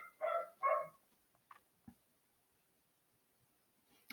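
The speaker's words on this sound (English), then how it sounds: "I apologize for the dog barking in the background." A dog barks twice in quick succession somewhere in the room, fairly faint, followed by a few small knocks and then quiet.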